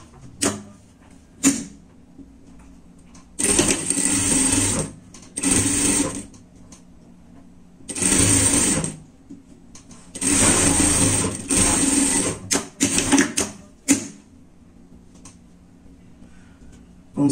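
A sewing machine runs seams on a lined bear-style pet jacket in short repeated bursts of close, steady whirring, separated by quiet pauses with light handling sounds.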